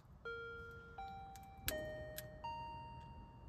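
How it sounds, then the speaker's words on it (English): An early-model StarQuest car's door chime plays several clear, sustained bell tones in sequence, each ringing on with a soft decay and overlapping the last, heard close over a low background rumble. "That's the door chime."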